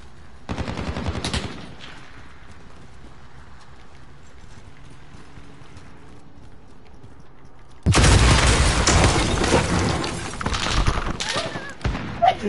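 Gunfire from a shooter video game bursts out in rapid volleys, first a short loud burst, then a long sustained barrage of dense shots near the end, with quieter game sounds in between.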